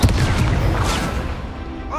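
Confringo explosive spell in Hogwarts Legacy combat: a loud booming blast with gunfire-like bursts and rumbling debris, and a short voice at the very end.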